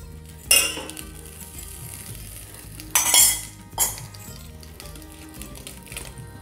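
Cooked rice is stirred into warm ghee residue in a pan, with a few loud metallic scrapes and clanks of a spoon against the pan over a soft background hum.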